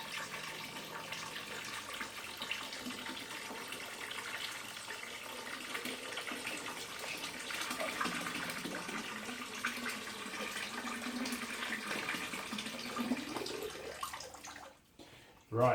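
Steady rushing water pouring into a bin, continuous and fairly close, with the flow cutting off abruptly near the end.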